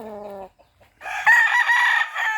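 Gamefowl in the Philippines: a rooster crows loudly and close, first a short harmonic call, then after a brief pause a longer, strained crow, with no talk over it.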